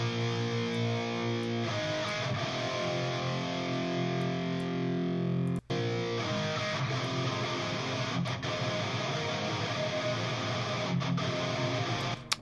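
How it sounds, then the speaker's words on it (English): Distorted electric guitars drenched in heavy reverb play a sustained, dense 80s-style wash, loud and continuous with a brief cut midway. "Suddenly, reverb on guitars, and suddenly now it sounds way more 80s."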